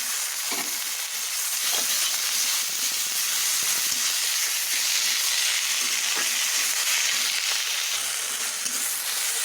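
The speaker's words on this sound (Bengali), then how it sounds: "এবার বেগুনটা ভাজা হয়ে গেছে, আমি মেথির শাকটা ঢেলে দেবো।" Fenugreek leaves hit hot oil with fried eggplant in the pan and set off a loud, steady hiss of sizzling. It holds close and constant throughout with faint stirring clicks.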